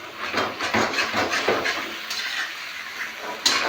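Cleaned chicken pieces going into a karahi pan for chicken karahi, heard as clattering metal, scraping and stirring with a light sizzle, moderately close, no talk.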